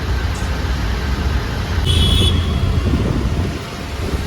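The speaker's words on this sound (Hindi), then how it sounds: "और अभी ये ट्रैफिक लग गई है, बताओ।" Steady, loud low rumble of road traffic in a jam, engines idling and vehicles crawling close by, continuous with no voices.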